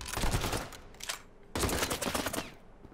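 Rapid automatic gunfire in the World War II shooter Battalion 1989: two loud bursts of close, rattling shots separated by a brief lull, with no talking.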